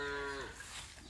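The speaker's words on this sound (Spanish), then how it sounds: "aquí están las vacas, le metimos las vacas, las chivas ahí anoche para que se relajara." Cattle in a pen on a farm in El Salvador give a single drawn-out moo that starts tonal and fades into breathy noise, heard close and clear.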